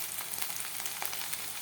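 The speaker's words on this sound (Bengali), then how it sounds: "এই যে মাংসটা রান্না করতেছি" Meat frying in a pan, a steady close sizzle with small pops and crackles running throughout, no talk.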